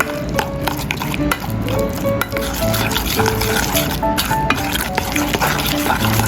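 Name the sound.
mixing seasoned meat paste in a bowl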